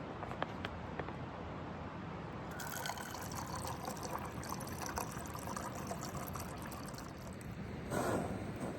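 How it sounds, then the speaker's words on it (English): Runoff water trickles and pours through a new portable water filter outdoors on a mountain lake hike, a steady close liquid dribble with a brief louder splash near the end. "from the runoff that I want to filter it a little bit just to get some of that grittiness out of the water."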